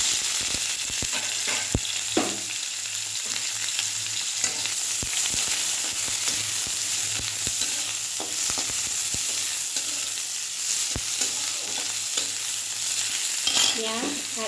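Onions fry in hot oil in a pan, a continuous close sizzle broken by frequent sharp clicks and scrapes of a spatula stirring against the metal, with no talking throughout.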